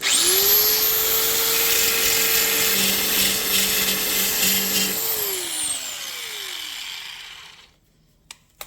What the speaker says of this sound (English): Immediately, I was pretty impressed with this little belt sander.